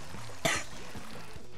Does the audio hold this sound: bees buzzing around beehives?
no